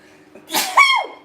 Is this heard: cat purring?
no